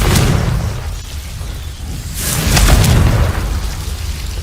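Fiery explosion spell in Hogwarts Legacy bursting twice, each a deep rumbling boom with a crackling spray, the second heavier, loud and with no talk.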